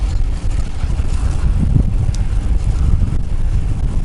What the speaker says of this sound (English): The wind is from my right, so there's no problem there.